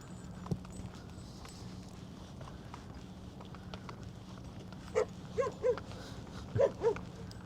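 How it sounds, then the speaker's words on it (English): Dog barking at a distance on a brisk morning near Blythe, California, a few faint yaps in two small clusters over quiet outdoor background. "Yeah, it was definitely a dog, not a coyote."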